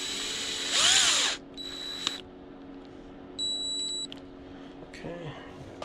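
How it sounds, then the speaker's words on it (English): A power drill drives a screw into a leather shoe sole in two short whirring bursts, close and fairly loud, with a couple of high beeps and quiet handling noises between them. "So I'm just gonna stick one of these screws in here, grab my drill"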